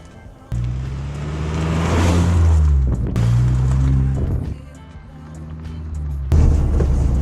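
A Honda Civic Type R pulls away on a drive, its engine droning loud and close with rising and falling revs through gear changes, cabin road noise underneath.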